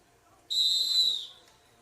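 A referee's start whistle at the Micronesian Swimming Championships blows one loud, sustained, piercing blast before a boys' 50-metre butterfly heat, then cuts off and leaves a quiet pool hall.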